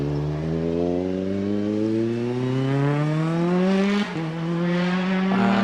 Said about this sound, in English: It's the R5 specification Mitsubishi Mirage from 2014.